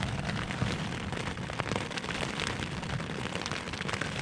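Rain pattering steadily on the fabric of a leaking tent during a storm on a motorcycle trip, a dense continuous hiss of drops striking close by, with no talk.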